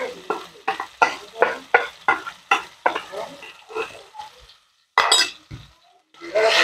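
Drumstick (moringa) paste sizzling in hot oil in a wok, with a regular rhythm of scraping stirring strokes over a frying hiss, then a brief pause and a louder burst of sizzling.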